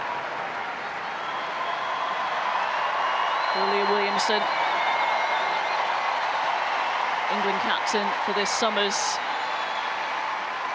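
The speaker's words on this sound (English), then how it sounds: "Good reception from the Emirates crowd." Stadium crowd at the Emirates applauding as Arsenal captain Leah Williamson is substituted during a women's league match against Tottenham, a steady roar of clapping and cheers running throughout beneath a commentator's voice, with brief whistles.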